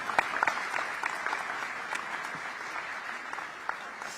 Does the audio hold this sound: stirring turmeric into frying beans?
no